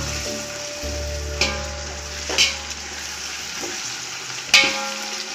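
Garlic with mint and coriander sautés in a hot pan, a steady loud sizzle under a low hum, marked by a few sharp scrapes and knocks of a spoon stirring the mix.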